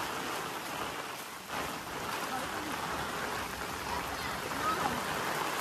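Rain falls at a river crossing, a dense continuous hiss of drops mixed with rushing water, steady and fairly loud throughout.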